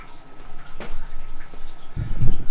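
Water pours and splashes close by in uneven bursts onto microgreen trays, growing louder toward the end as it hits a shallow tray.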